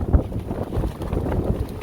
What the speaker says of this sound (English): of course the place is very windy